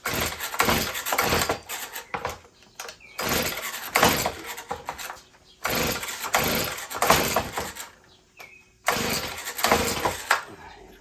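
A Stihl BG50 handheld leaf blower with a starting fault is pull-started again and again. Several rapid ripping cord pulls each make the small two-stroke engine sputter briefly, but it never catches and runs, heard up close.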